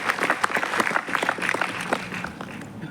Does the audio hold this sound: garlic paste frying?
no